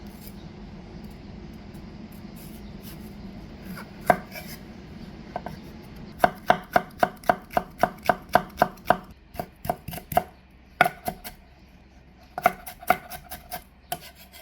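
A knife chops rapidly on a cutting board, cutting agar jelly into strips, a quick series of crisp taps after some soft rubbing, with no one speaking.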